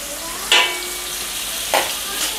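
Lemongrass and curry leaves hit hot oil in a pan, giving a steady close sizzle with two sharp bursts of crackling as more goes in.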